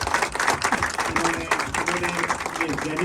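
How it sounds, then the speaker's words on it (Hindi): An audience at a trekkers' meetup in Islamabad claps in a dense, continuous burst of applause, with a voice talking over it throughout. "इन लोगों के लिए स्पेशल तालियां।"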